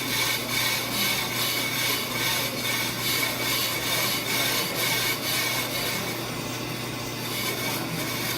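A brake rotor turns on a resurfacing lathe while the cutter shaves off rough spots, giving a steady, dense grinding hiss that runs unbroken and close throughout.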